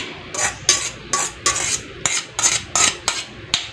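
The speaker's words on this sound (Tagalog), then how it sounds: "Halo na natin tong fruit cocktail." Spoon stirring fruit cocktail into a macaroni fruit salad in a bowl, giving about ten scraping, clinking strokes in a steady rhythm, close up with no talk.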